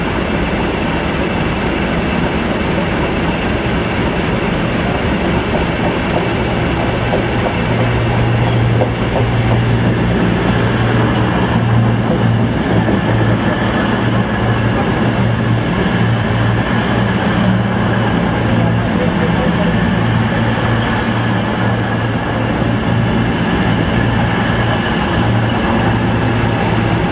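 Class 50 diesel locomotives 50049 and 50007 haul a train past with a continuous loud engine drone and rail rumble that holds steady throughout, with no voices.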